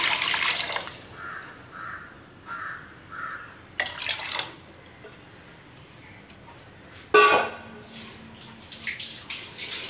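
Measured water poured into a pot for millet payasam, several short bursts of splashing and trickling separated by quieter gaps, close by in a kitchen.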